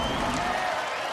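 A studio audience at a Robot Wars robot-combat taping applauds; dense, steady clapping fills the room for a brief moment.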